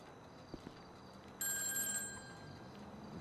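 A telephone bell rings in a steady electronic trill for about a second, alone over a quiet background hum, in GTA 5 Online.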